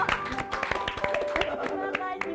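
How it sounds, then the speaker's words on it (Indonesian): Applause after a live song on a music talk show: a short burst of clapping from a few nearby hands, uneven and light, mixed with voices talking over it. "Langsung tepuk tangan dulu."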